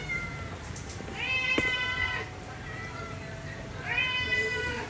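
Hungry cats meow loudly in two drawn-out, wailing cries, close by, over a steady background hiss.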